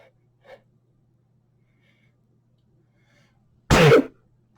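A single sharp human sneeze bursts out loudly and close by, abrupt and brief, after a stretch of near silence broken only by a faint breath or sniff early on.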